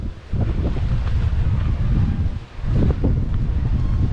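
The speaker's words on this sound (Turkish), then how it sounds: "Ve böyle rüzgarlı birazcık serin olması daha da güzel ya" Strong wind buffets the microphone in a continuous low roar on a large open grassy area near Didim, Turkey, easing briefly partway through before gusting back up.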